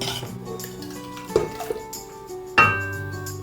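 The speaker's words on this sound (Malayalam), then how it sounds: "എന്താ ഒന്ന് നല്ലപോലെ ഒന്ന് ഇളക്കി കൊടുക്കാം" A spoon stirring rasam in a pressure cooker pot after the whistles, metal scraping and a few sharp clinks against the pot's sides.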